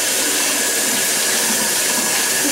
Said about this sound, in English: I'm just going to run it under hot water for a minute.